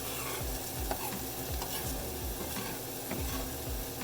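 Ginger and scallions stir-fry in a hot pan with a dense continuous sizzle and rhythmic scraping strokes of the spatula, close and steady.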